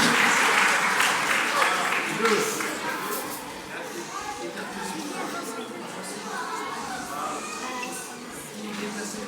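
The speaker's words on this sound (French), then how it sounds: "Alors on les applaudit très fort" An audience applauding at a children's song show, a dense burst of clapping that starts strong and settles into steady applause while people talk over it.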